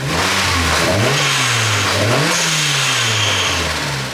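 A turbocharged Mazda Miata NB engine revs loudly up close, rising twice in strong pulls before settling back, with no voices.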